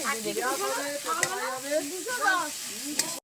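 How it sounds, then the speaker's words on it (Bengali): Ginger and garlic fry in a pan while being stirred, a continuous sizzle with soft scraping that sits under a voice talking throughout, then stops abruptly at the end. "আদা রসুন দিয়ে বেশ সুন্দর করে আবারও নেড়ে চেড়ে নিয়েছি।"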